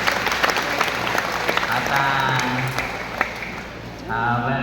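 A congregation at a church anniversary service claps for the Lord in a full, steady round of applause. Someone talks over the clapping and another voice joins near the end.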